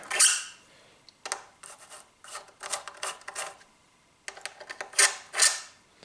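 Screwdriver adjusting the bridge of a 1970s Greco Les Paul Professional guitar: intermittent scraping and small metallic clicks in short bursts with pauses between them, close and fairly loud, no talk.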